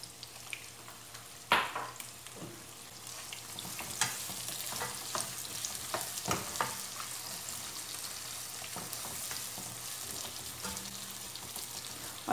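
Onions frying in ghee for chicken biryani, a moderate steady sizzle with occasional sharp clatter and stirring scrapes, heard alone.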